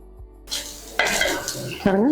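A paneer egg omelette frying in a little oil over a low flame gives a soft sizzle, broken by sharp clinks and scrapes of a utensil against the pan, close and fairly loud with no speech.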